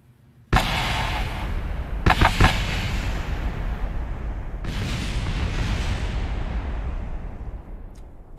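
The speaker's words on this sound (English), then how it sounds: "There it goes. There's the explosion." Booming rocket explosions in Kerbal Space Program, a sudden loud blast followed by further heavy bursts and a long rumbling roar that stays strong before easing off.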